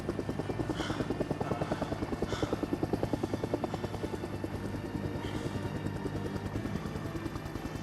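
A helicopter in the video game Days Gone thumps with a fast, steady rotor beat throughout, fairly close and continuous, with a few faint higher bursts on top. No one speaks.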